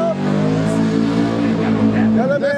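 A candy apple red car's engine revs loudly and steadily close by, a sustained throaty roar that cuts off near the end, with voices talking over it.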